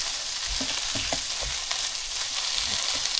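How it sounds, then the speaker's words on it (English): Softening vegetables and grape tomatoes stirred in a hot pan for a creamy garlic herb chicken pasta, with a continuous sizzle and several close, scraping utensil strokes, no voices. "we're going to stir those in for about, say 2 to 3 minutes"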